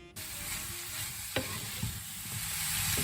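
Boiled vegetables stirred in a pan of frying ginger, garlic, green chilli and spring onion, a steady hiss of sizzling with a few sharp spatula scrapes, close and continuous with no talking.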